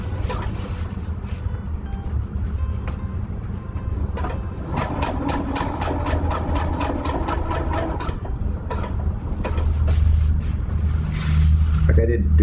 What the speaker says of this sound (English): sewing this flap down tight